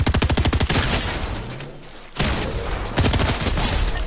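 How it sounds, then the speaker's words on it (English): Video game gunfire rattles in rapid, loud bursts, opening with a fast string of shots, a short lull, then more heavy volleys near the end. "someone's shooting at me"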